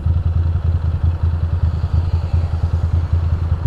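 A Ducati Monster 620 motorcycle engine idles while warming up, a close, loud, lumpy rhythmic putter that stays steady throughout with no talking.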